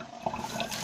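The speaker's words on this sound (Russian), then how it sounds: "здесь центральный водопровод. Работает? Конечно" Cold water running steadily from a tap at a goat farm, a soft continuous hiss with a slight rise partway through.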